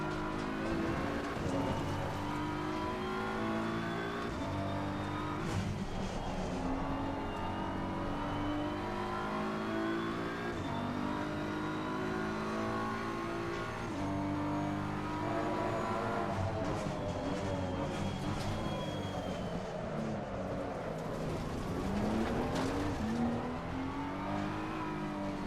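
A race car engine in Gran Turismo 7 revs and shifts steadily through gears for a long stretch, loud and continuous with rising and falling pitch as the car accelerates and brakes around a lap, with no talk.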